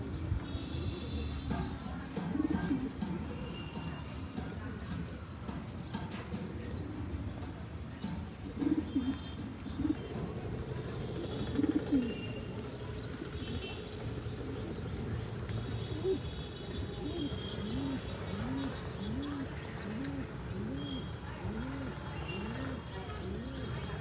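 Pigeons being fed in sunshine coo steadily and close by, with repeated rolling calls building in the second half. Wing flutters and light chirps mix into a busy, continuous background.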